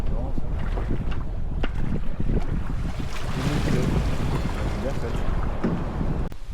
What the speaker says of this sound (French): On a du vent ce matin, il y en a eu toute la nuit.